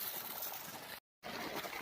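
Water pours steadily from a solar-powered borewell pump drawing from 600 feet on a farm, a constant rushing trickle with a brief cut in the middle, no talk over it.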